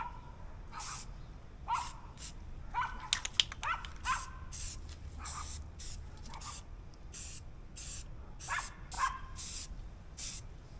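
A dog barks repeatedly in the background of a garage workshop, sharp short barks and yips in irregular bursts at a distance.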